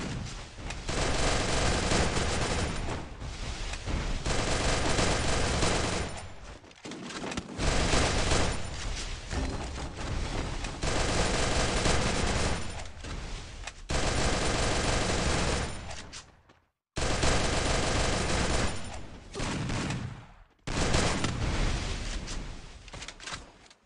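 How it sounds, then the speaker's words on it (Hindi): Rapid, loud bursts of cover-fire gunshots from a Free Fire Clash Squad match, sustained automatic volleys with brief gaps between strings of shots, close and dense. "एक बंदा कवर फायर दे रहा है यार।"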